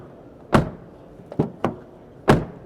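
Rear door of a US-built Toyota Camry shut several times, four sharp close thuds with a slightly tinny edge, spaced irregularly and each fading quickly.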